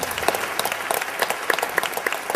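A conference audience applauds its panel after a discussion, a steady round of clapping from many hands with individual claps standing out, moderately loud and continuous throughout.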